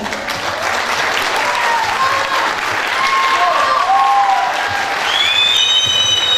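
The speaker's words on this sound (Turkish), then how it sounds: "Alkışlarınızla Selma Güzeloğlu izler." A theatre audience claps continuously in a steady wash of applause after a comic dramatised reading of a letter in the Kastamonu dialect, with a few voices and whistles rising above it.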